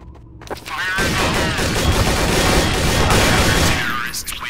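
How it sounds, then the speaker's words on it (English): Counter-Strike: Source gunfire erupts as a dense, continuous fusillade of rapid shots from several weapons at once, loud and unbroken for several seconds, with a voice briefly heard over it. "they're all shooting at me at once!"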